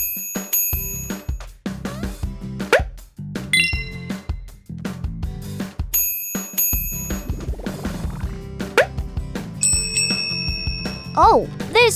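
Cartoon bell sound effects chime and ding repeatedly among bright musical tones and playful effects in a children's animated car hospital show, with a voice talking between the rings.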